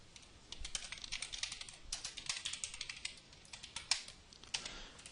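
Rapid, close, quiet typing on a computer keyboard, a busy run of light key clicks with a few louder taps and no voices.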